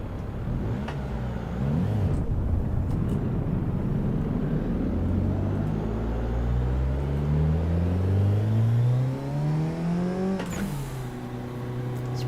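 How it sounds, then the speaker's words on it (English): Cars drift through streets in the Assetto Corsa racing game, one engine revving steadily higher in long rising whines over a continuous rumble, then dropping off before climbing again, loud and close with no talking. "We've just got folks street drifting everywhere."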